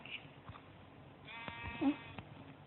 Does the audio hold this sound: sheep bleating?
yes